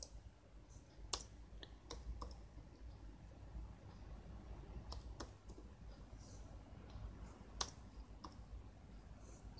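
Computer keys click while Tamil text is typed, sparse sharp taps with a few louder strikes scattered over a low, quiet background hum, close and faint overall.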